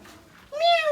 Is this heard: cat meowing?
yes